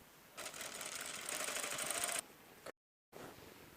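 A sewing machine runs in a steady fast burst for nearly two seconds, stitching a seam along sandwiched raw edges, then stops; a brief pause and quieter room sound follow.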